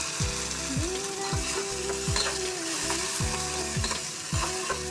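Blended shrimp fries in hot oil in a pan, a steady close sizzle broken by regular spatula scrapes and metallic clanks roughly every half second.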